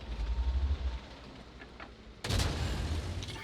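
A tank cannon in World of Tanks fires a single loud, sharp blast with a lingering roar, following a low rumbling engine drone and a quieter stretch, with no talk.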